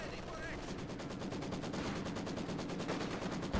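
Machine gun fire in the real-time strategy game Company of Heroes 2, a fast steady rattle of rapid bursts continuing throughout, moderately quiet and busy under other battle noise.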